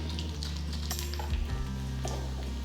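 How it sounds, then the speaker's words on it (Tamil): Dried red chillies dropped into hot sesame oil already popping with mustard seeds, giving a steady, dense sizzle and crackle with soft clinks, close and continuous. "இப்போ நான் வந்து காஞ்ச மிளகா சேர்க்குறேன்."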